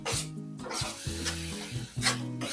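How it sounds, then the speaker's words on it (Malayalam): Tomato masala for a jackfruit rind and seed curry sautés in a pan, giving a soft, low sizzle with a few stirring scrapes. It is quiet and close, with no voices. "ഈ മസാലയുടെ തക്കാളിയുടെ പച്ച മണം മാറുന്നതിന് ഇതൊന്ന് വഴറ്റിയെടുക്കേ."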